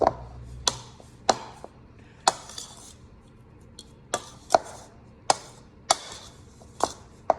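A spoon or spatula knocks against a bowl while cookie dough is stirred, a string of sharp, evenly spaced clacks with quiet scraping between them and no talking.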